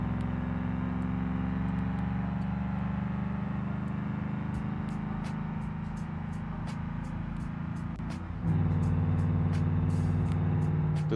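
A truck engine drones steadily while driving, a loud continuous hum that dips briefly and then surges louder near the end, with faint clicks above it and no talking.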